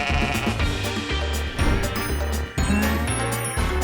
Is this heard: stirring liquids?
no